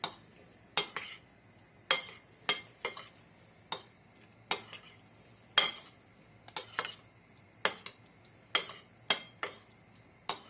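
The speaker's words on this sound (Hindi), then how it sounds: "काट कर टमाटर हमने इसमें मिक्स कर दिया। इसको मिक्स कर लेते हैं।" A spoon mixing chopped tomatoes into a salad in a bowl, giving a regular series of close, crisp clinks and scrapes against the dish, roughly one or two per second, with no speech.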